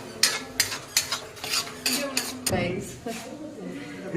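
A metal spoon stirs salt into a glass, clinking rhythmically against the sides in quick repeated strokes, with a voice talking faintly underneath.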